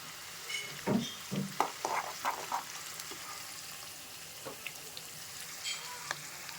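Garlic and spices sizzle in hot oil while tempering for a mango pickle, a soft steady crackle with a few sharper spits and pops near the start, no talking.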